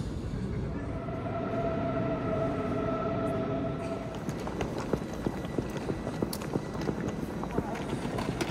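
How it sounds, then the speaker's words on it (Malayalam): A train pulls into Cologne main station. A steady tonal whine and rumble give way after about four seconds to rhythmic wheel clacks and clicks over the rails, with faint background voices. "7:15 അഞ്ചിൻ്റെ കൊണ്ട് ട്രെയിൻ എത്തും."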